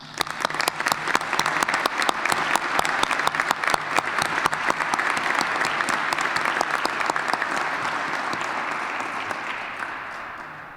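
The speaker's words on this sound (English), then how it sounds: "Graduates, will you please join me in applauding the families and friends?" Graduates at a Mount Union commencement ceremony applaud families and friends, dense sustained clapping from a large crowd lasting several seconds before slowly thinning out, with no voices over it.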